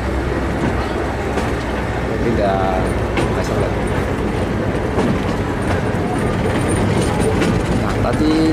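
Train locomotive and carriages shunting at the Ambarawa railway museum, a steady rumble of rolling wheels with a brief squeal and scattered clanks, heard nearby as a continuous broad wash.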